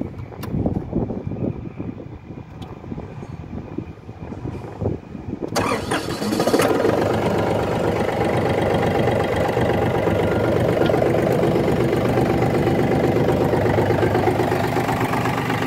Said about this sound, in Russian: Трактор заводится легко.